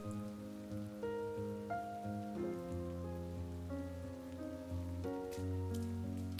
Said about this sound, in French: La pluie soudaine perturba son trajet.